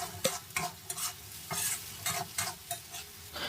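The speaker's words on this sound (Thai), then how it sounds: "นี่เลยผัดคลุกเคล้าเข้ากัน สัก แป๊บหนึ่งครับ" Papaya and egg stir-fry in a hot pan, with rapid repeated scrapes and clacks of a spatula over a soft sizzle, close and alone without speech.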